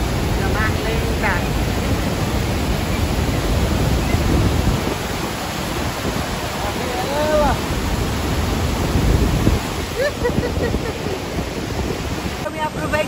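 The Iguaçu Falls at Foz do Iguaçu give a loud, continuous broadband roar of cascading water and drifting spray, steady throughout, with people talking faintly beneath it.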